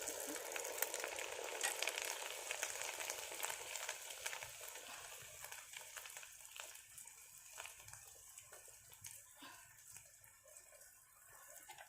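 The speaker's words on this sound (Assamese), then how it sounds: "এনেদৰে মই ভাজি লওঁ।" Assamese malpua pitha fry in hot oil, a faint, continuous crackling sizzle with scattered pops that slowly eases over time, with no voices.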